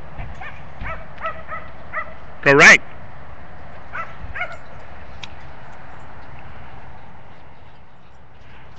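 A dog at a park in Ashland, Oregon gives a few scattered yips and barks, with one louder bark standing out midway, while a person speaks commands between them and the rest fades to quiet outdoor ambience.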